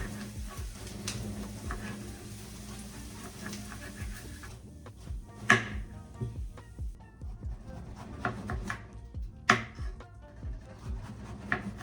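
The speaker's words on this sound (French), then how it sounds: "je pense qu'on va couper en rondelles" Knife slicing food into rounds on a cutting board, a series of quiet, irregular close chops with soft thuds and a few sharper clicks amid faint kitchen background.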